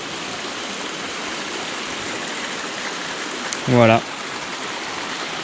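A river flows beneath a natural tufa arch in the Trévans gorges of the Verdon, giving a steady, even water rush throughout, with a brief spoken word near the end.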